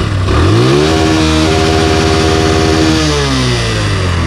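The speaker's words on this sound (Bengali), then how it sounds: "আপনি এটা থ্রটল একটা জোরে করে বাইরে দেন।" A motorcycle engine revs up sharply as the throttle opens, holds a loud, close, pulsing roar for about two seconds, then drops back toward idle.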